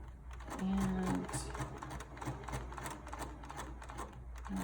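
Sewing machine stitching a cotton face mask, a steady fast mechanical whir and needle clatter running close and alone for a few seconds.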